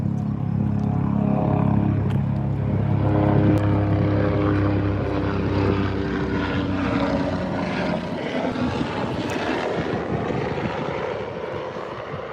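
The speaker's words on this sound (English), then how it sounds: "Oh, it's a helicopter." Helicopter passing over a lake on a morning outing, a steady low rotor and engine drone with harmonic hum that builds to a louder, broadband wash as it comes overhead, no voices.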